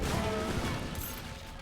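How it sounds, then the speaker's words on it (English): A cannon blast from an Age of Empires III battle at a fortified position, a short heavy burst of crashing noise that fades quickly, with no talk over it. "that explosion did not work in Kevin's favor"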